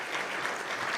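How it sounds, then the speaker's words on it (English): A conference crowd at a business and economic forum applauds steadily, a dense wash of clapping hands that holds at an even level throughout. "I would like a big round of applause for Ambassador Carolina."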